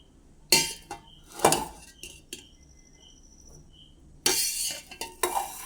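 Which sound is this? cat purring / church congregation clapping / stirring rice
stirring rice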